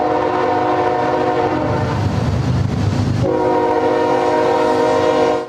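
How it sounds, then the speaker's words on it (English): Freight train passing a level crossing at Douglas and Scott Avenue in East Nashville, its horn blaring in long steady blasts over the rumble of rolling cars, loud and near throughout. "The train arriving at the intersection of Douglas and Scott Avenue in East Nashville."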